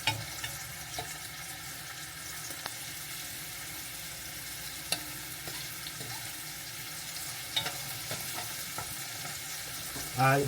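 Food sears quietly in a hot pan, a soft, even sizzle close by with occasional small pops and clicks, and no talking.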